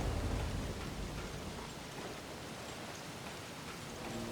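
Thunderstorm rain in a video game, a steady, soft hiss of downpour with faint low rumbling, continuous throughout and heard alone.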